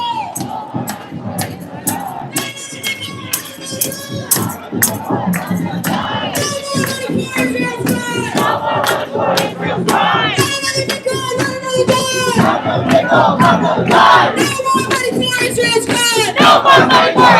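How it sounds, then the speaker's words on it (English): A protest crowd in Bryant Park, New York, chants and yells loudly in rhythmic, massed shouts. The voices build in strength and stay close and dense throughout. "I'm gonna let y'all listen to the crowd for a bit."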